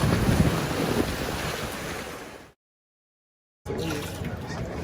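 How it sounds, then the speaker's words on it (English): Waves washing around a boat on Flathead Lake, a continuous rushing and sloshing with wind buffeting, cut to silence for about a second before resuming. "More waves than I like to have on my boat."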